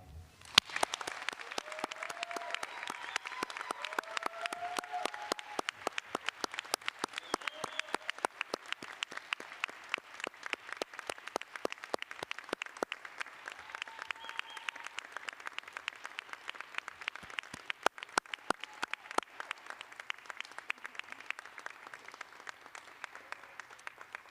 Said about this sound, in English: Audience, let's give them one more round of applause